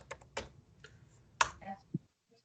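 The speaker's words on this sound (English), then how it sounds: "I'm typing this in as we go." Sparse clicks of keys being typed on a computer keyboard, a few quick taps followed by a short burst and a lone louder keystroke, close by and quiet with no talking.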